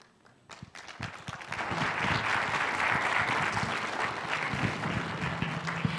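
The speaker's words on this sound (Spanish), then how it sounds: "vamos a dar por favor fuertes aplausos a Pastor Salvador Pérez por la palabra" Strong applause from a church seminar audience honoring Pastor Salvador Pérez, a few scattered claps swelling into sustained, dense clapping that fills the room for several seconds.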